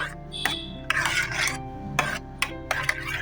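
A spoon stirs yogurt mixed with salt, fenugreek powder and turmeric in a bowl, giving repeated scraping strokes and light clinks against the sides, close and clear without talk.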